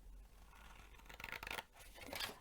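Scissors snip through scored paper in a few close, quiet cuts that come in short bursts, alone with no voices.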